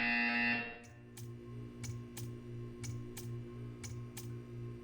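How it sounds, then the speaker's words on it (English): A buzzer sounds in the Portal 2 video game, about eight short evenly spaced electronic pulses over a steady low mechanical hum, after a brief louder tone at the start. "You will hear a buzzer."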